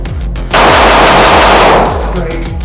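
A Rost Martin RM1C pistol fires a fast, loud string of shots at a shooting range, the cracks blurring into one dense burst that trails off into ringing echoes.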